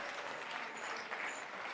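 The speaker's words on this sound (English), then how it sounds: "Put your two hands together, or three hands if you have them, and make some crazy clapping sounds for Samuel Hooligan" An audience breaks into applause, a dense, steady wash of clapping heard at a distance and fairly quiet throughout.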